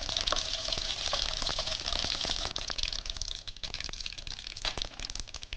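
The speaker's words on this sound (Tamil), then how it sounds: "கடுகு நல்லா பொரிஞ்சதுக்கப்புறம் மற்ற பொருள்லாம் போடலாம்." Mustard seeds splutter in hot oil in a pan, a dense, steady crackle of tiny pops and rattles. It is fairly quiet and close, with no talking.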